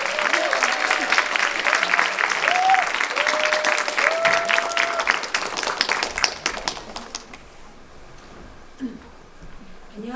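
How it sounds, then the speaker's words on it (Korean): Audience applause welcoming a veteran children's-song composer to the stage at a Korean concert event, a dense steady clatter of many clapping hands for about seven seconds, with whistles on top, then thinning away to scattered claps. "뜨거운 박수 부탁드리니다"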